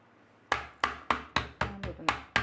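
A knife chops through beef on a cutting board while preparing Korean spicy beef stew, eight sharp, evenly spaced thuds in a steady rhythm, close and clear with no talking.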